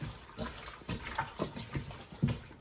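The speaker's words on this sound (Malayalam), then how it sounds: "മിക്സ് ചെയ്യണതിന് മുന്നേ ഞാൻ നന്നായിട്ട് കൈ കഴുകാം" Hands washed under a running tap in a home kitchen before mixing tandoori chicken: a steady splashing stream of water with irregular swishes and splatters as the hands move, close by and with no talking.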